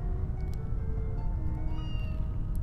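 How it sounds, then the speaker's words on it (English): A cat meows in the Harry Potter and the Philosopher's Stone video game, with drawn-out tonal cries that rise and fall over a low steady background hum, plus a few faint clicks, and no talking. "Is that cat falling to its death still?"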